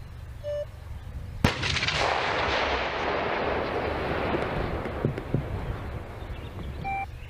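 A single sharp, heavy artillery blast from a Russian Msta-S self-propelled howitzer, followed by a long rumbling roar that slowly fades while staying loud and close.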